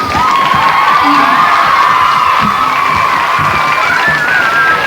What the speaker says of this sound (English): I think they deserve a special round of applause.